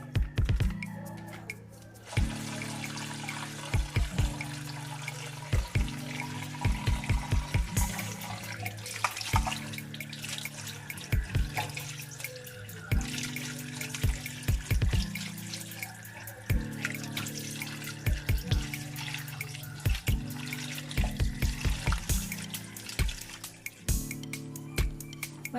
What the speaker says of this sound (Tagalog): So while naghuhugas tayo ng ating Shirataki noodles,